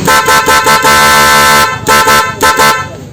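Loud snail-type The Victor horn fitted to a 2020 Yamaha Nmax scooter, blaring in repeated short honks followed by longer sustained blasts, close and harsh with no talk.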